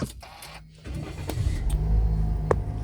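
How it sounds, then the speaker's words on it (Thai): A 2014 Toyota Yaris 1.2G petrol engine cranks briefly and catches, then settles into a steady, close idle rumble that continues to the end. "ผมจะสตาร์ทรถให้คุณลูกค้า ดู นะครับ"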